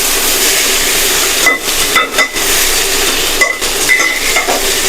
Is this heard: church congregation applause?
no